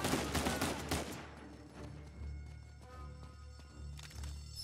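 Rapid volley of gunshots in the Uncharted 4 video game, loud bursts at the start fading into scattered distant shots and a low rumbling game soundscape.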